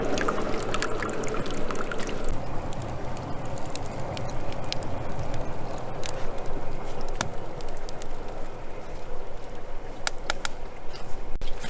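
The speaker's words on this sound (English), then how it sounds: "right now we're letting in sap trickling through here" Maple sap trickles and bubbles in a wood-fired evaporator pan at a low boil, a steady close-up wash of liquid noise with faint clicks and drips, no talking.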